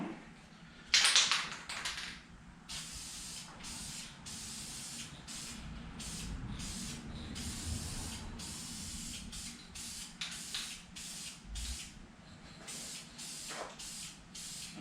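An aerosol can sprays a colour coat onto a Chevy small block engine in a series of short hissing bursts with brief gaps, close and fairly quiet.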